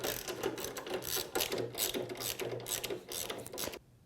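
A ratchet wrench backs out Torx 40 bolts from the rear of a Harley-Davidson motorcycle fuel tank, giving close, rapid clicking bursts in an uneven rhythm with brief pauses, then stopping abruptly near the end.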